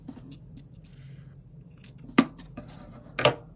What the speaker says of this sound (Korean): 이 꼬리실 부분 지저분하니까 이거는 잘라서 이제 좀 정리를 할게요